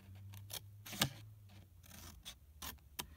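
A few quick, crisp snips and rustles of scissors working through paper, close up, in short irregular bursts with brief pauses between.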